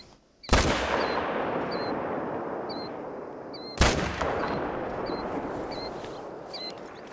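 Two loud rifle shots from the Hunter Call of the Wild video game, each a sharp blast with a long rolling echo fading over several seconds, the second about three seconds after the first, with faint birdsong in the background.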